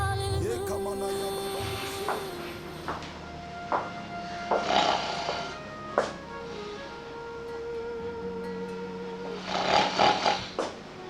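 A person snoring in a bedroom, several loud raspy breaths spaced a few seconds apart, the last ones the strongest, over a faint steady background tone with no talking.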